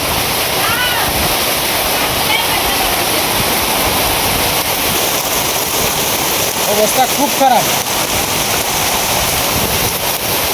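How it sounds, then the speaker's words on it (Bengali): Heavy nighttime storm rain hisses and roars steadily throughout, close and loud, while a person speaks briefly over it partway through. "এ হেরে বৃষ্টি যাইতেছে"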